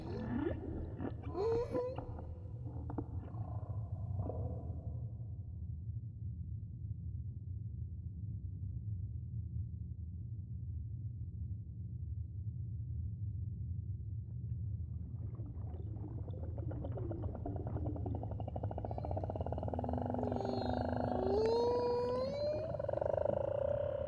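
Whale calls echo under a low underwater rumble: a few early moans, a quiet stretch, then rising and falling cries and whistles that build toward the end, fairly faint and with no speech.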